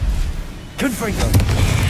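A Confringo spell blast in Hogwarts Legacy: a short fiery whoosh and boom that bursts out after a quiet moment and rumbles on, with a voice over it.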